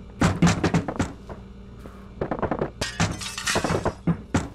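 Repeated heavy thuds and cracking impacts as a chair is swung against a window in the Hello Neighbor video game, building to a loud glass shatter, close and punchy with no voices.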